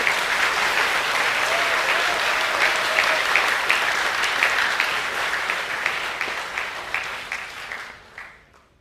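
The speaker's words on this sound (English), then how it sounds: "Please put your hands together for our Cultural Commendation Award winners." An audience at a school awards assembly claps steadily and loudly for several seconds, the applause thinning and fading out at the end.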